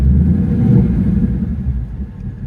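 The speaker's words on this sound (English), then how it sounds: "you guys hear that V8?" Deep, throaty V8 rumble from a 2026 Ford Mustang GT with active exhaust in track mode, loud and close, swelling with a rev before easing off into a lower growl.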